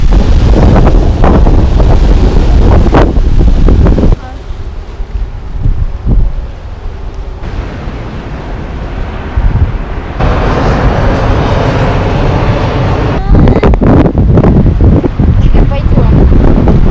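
Strong coastal wind buffets the microphone at the seashore in Korea, with a steady roar and a faint wash of surf, while voices briefly come through.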